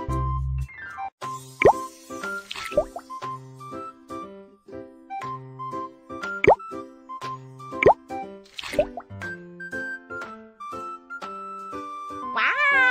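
Cartoon plops of paint dropping into glasses of water in the children's game Little Panda's Learning Academy, several distinct watery plips spaced apart over cheerful background music.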